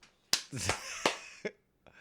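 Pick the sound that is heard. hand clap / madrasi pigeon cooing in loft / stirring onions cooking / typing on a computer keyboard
hand clap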